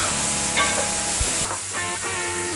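Onion and peppers with salt frying in a pan, a close steady sizzle broken by spatula scrapes and a couple of light knocks, with a faint hum running underneath.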